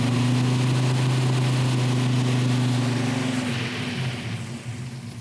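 A car engine idles and runs steadily after a distributor timing adjustment in a hot rod garage, a loud, even drone with a strong low hum that eases off slightly in the last second.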